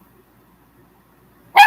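A single sharp dog bark bursts out near the end after near silence, loud and close, heard inside an RV.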